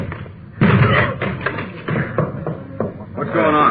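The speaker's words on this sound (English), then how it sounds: "Door's locked. Let's hit it." Police officers forcing a locked door, a series of heavy, loud thuds and bangs in an irregular rhythm, close by and repeated several times.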